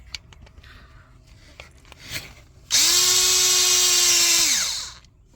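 A power tool removing bolts from the thermostat housing of a Mercedes ML350 runs in one loud, steady whir for about two seconds, then winds down. Softer clicks and handling noises come before it.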